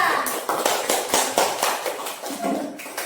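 A classroom of students applauds a student group, a close patter of many hands clapping in uneven bursts that rise and fall.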